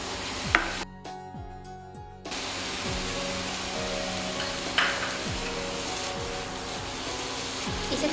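Vegetables and corn cooking in a pan for veg Chinese toast, a steady close sizzle and frying hiss with a few stirring scrapes, pausing briefly near the start.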